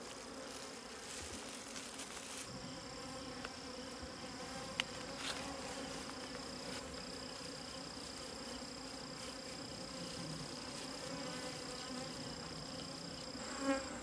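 Honeybees buzzing around an opened wild hive holding brood and a little honey, a dense, steady drone of many insects close by, continuous throughout with no talking.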